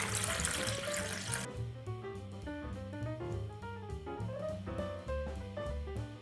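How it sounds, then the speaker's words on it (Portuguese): Whole milk is poured into a bowl, a brief rushing, splashing stream for about a second and a half, then it stops and soft background music carries on alone. "Agora eu vou acrescentar 1 litro de leite integral."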